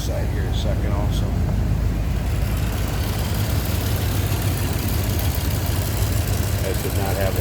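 A 1981 Chevrolet Corvette engine idling smoothly, a steady low rumble throughout at an even, close level.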